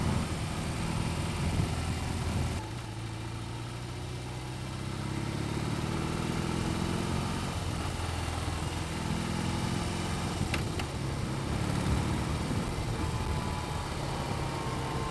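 A BMW R18 motorcycle fitted with an Akrapovic exhaust runs steadily with a deep, loud engine note, rumbling low and continuous with slight rises in revs, and no talking over it.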